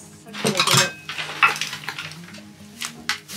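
Ceramic plates and dishes clatter as they are set down together, a few sharp clinks and knocks close by, with short pauses between them.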